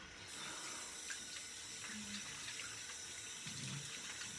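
Tap water running into a sink for rinsing the face after a shave, a soft continuous hiss and splash with faint dribbles, steady and quiet, alone without talking.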